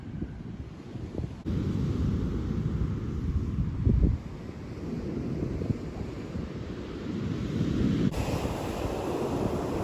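Strong wind and big waves pound a Devon sea shore during a fishing session, a continuous roar of surf with heavy wind buffeting the microphone and a louder surge partway through.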